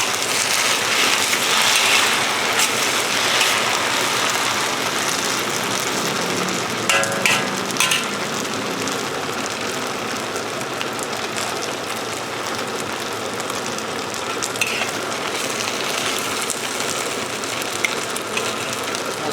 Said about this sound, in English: The bean sprouts will take a bit longer to cook compared to the chives.